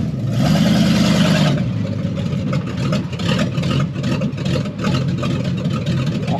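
A truck engine fitted with a performance cam idles with a loping, uneven rumble, revving briefly at the start then settling into a choppy, pulsing idle up close.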